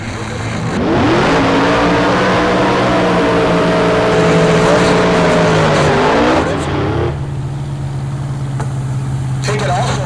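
Drag race cars at Heartland Park Topeka, including Royce Payton's Nightmare Mustang, roar off the line together, engines rising in pitch over several seconds, then drop to a lower steady rumble; an announcer's voice carries over the noise.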